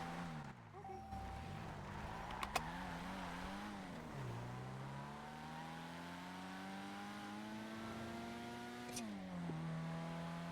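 A car driving and revving in a video game roleplay, its engine rising and falling in pitch through repeated shifts, sustained and fairly faint, with a couple of sharp clicks.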